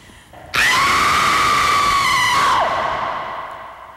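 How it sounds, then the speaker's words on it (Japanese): A woman lets out a single long, shrill scream of pure terror that rises sharply, holds loud and close for about two seconds, then breaks off, leaving a fading echo. "今のが純粋な恐怖の叫び。"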